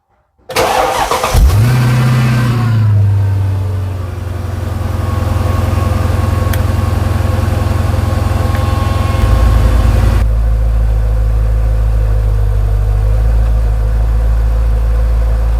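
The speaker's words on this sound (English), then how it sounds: "So let's go ahead and warm up this engine." A 2004 Mercedes-Benz E55 AMG with the supercharged M113K engine cranks and fires, flares briefly, then settles into a steady, close, deep idle while warming up, with no talking.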